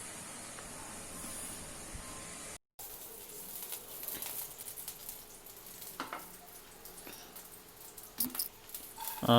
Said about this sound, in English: put the garlic to fry, as you see in the video, and then the chili flakes